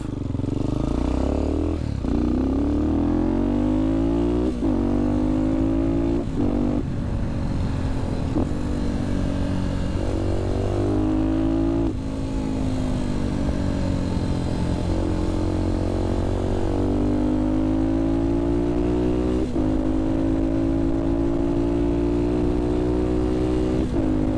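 A motorcycle engine rides along back roads, loud and continuous, with its pitch climbing and falling through repeated shifts and bursts of revving and no talking over it.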